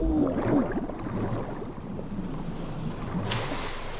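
A character wades into the water in the Survival Fountain Of Youth game, with a washy splash and surf-like churn near the start, then steady lapping water and a faint hiss.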